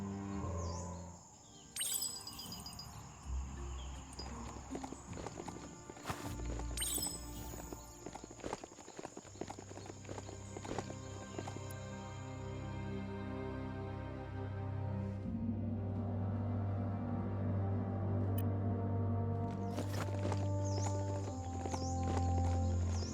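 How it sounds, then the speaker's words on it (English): Hoofed mount trotting in Biomutant, a steady clip-clop of footfalls under game music and ambient bird calls, fairly loud and continuous throughout. "Love to hear a mount's footbeat."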